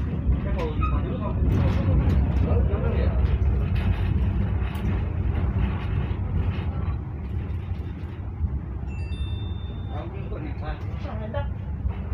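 A passenger train on a trial run rolls into platform 1 at Pauh Lima station in West Sumatra, a heavy, close rumble and rattle lasting throughout, with people talking over it and a brief high tone near the end.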